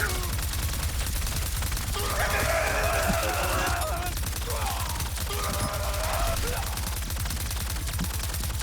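Rapid bursts of video game gunfire from homing, target-tracking bullets crackle loudly and continuously throughout, layered over dense game effects and background music.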